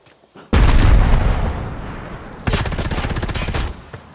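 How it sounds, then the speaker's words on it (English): A frag grenade blows up in Predator: Hunting Grounds with a sudden loud boom that decays slowly, then a second burst breaks into rapid, rattling automatic gunfire that continues before cutting off. "Tossing a frag."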